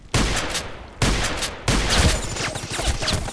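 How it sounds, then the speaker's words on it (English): Gunfire in the shooter game Contract Wars: three bursts of loud, close shots with rattling echoes, the last stretch continuing with scattered rapid fire, and no talk over it. "Who is shooting"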